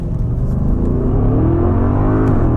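A 2025 Audi SQ8 accelerates hard from a launch, its engine roar climbing steadily in pitch, loud and close, with no talking over it.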